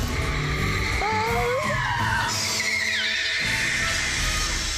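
A car skids during stunt driving, tires squealing in wavering, high-pitched screeches over a constant loud engine roar, with no talking.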